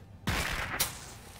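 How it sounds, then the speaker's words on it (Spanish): A firecracker thrown onto an explosive box in a South Park video game goes off with a sharp blast and rumbling tail, then a second, smaller crack moments later. "apunta la caja explosiva con L y presiona cuadro para lanzar un petardo"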